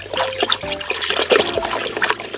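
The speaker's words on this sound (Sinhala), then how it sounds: "මෙම බාස්කට් එකට දාගත්ත වතුර ප්‍රමාණය නැවත කලවම් කර ගැනීම සිදු කර ගන්න ඕනේ." Water mixed with fertilizer is stirred in a basket for chili plants, giving close, continuous sloshing and trickling with splashy bursts and no talk.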